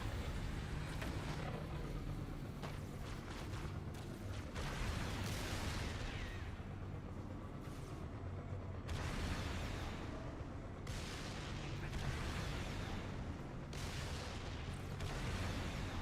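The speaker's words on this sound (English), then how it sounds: "why are these bombs not killing them? Like, are they not landing?" Bombs bursting in Halo Campaign Evolved on Legendary, a dense stretch of heavy booms and crackling blasts rolling one after another, with gunfire mixed in, loud and continuous throughout.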